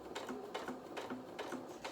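A domestic sewing machine stitches around a fabric ear for a soft toy rabbit, running in a steady rapid rhythm of pulsing needle strokes close by, with no talk.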